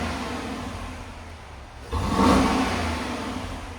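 Stock-exhaust 2025 Dodge Durango R/T, 5.7L HEMI V8, idling then blipped into one sharp rev that rises quickly and eases back, close and loud with no talking.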